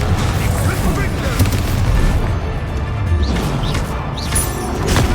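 A Confringo fire spell blasts in Hogwarts Legacy combat, producing loud, continuous booming explosions and crashes that fill the scene with dense rumbling impact noise.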